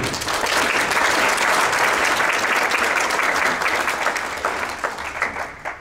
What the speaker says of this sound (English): a big round of applause for the people at the Idaho Travel Council doing such a great job